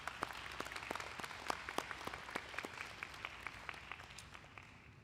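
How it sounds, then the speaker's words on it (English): Applause from a commencement ceremony audience for a biomedical informatics student award winner, a steady wash of scattered claps with sharper individual hand claps standing out, fairly faint and fading slightly toward the end. "Let's give him a round of applause."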